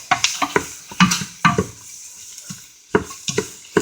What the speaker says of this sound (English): We'll stir it around and get it coated.